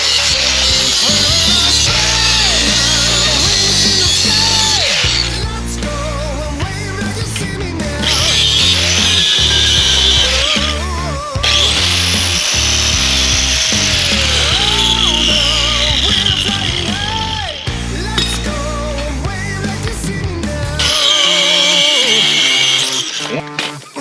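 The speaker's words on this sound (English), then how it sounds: "I'm just gonna take a cutoff wheel, cut it on both sides," Cutoff wheel slicing through a rusted motor mount bolt sleeve on a Jeep TJ, a loud, continuous grinding whine in several long passes with brief pauses and pitch dips as the wheel bites, no talk.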